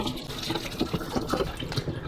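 Warm water rinses the water tank of a Delonghi Magnifica Start coffee machine, with irregular sloshing splashes and trickles at moderate, uneven loudness.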